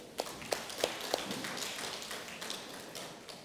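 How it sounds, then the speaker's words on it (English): A few sparse claps ring out in a church congregation, four distinct taps at a steady pace early on, then fading into soft, scattered room noise without talk. "Let's clap to the Lord once again."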